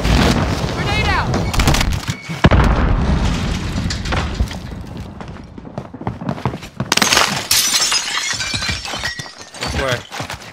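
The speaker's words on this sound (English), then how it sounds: "Grenade out!" Grenade blast in the Warzone battle-royale shooter, a sharp close explosion among scattered gunfire and impact crackles, with players talking excitedly over the chaos.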